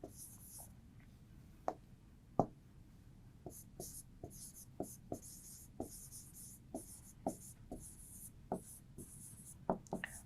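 Marker or chalk strokes on a board as the words pulmonary vein are written during an anatomy lesson, heard as a string of short, sharp taps and squeaks spaced irregularly over a quiet room hiss, with no talking.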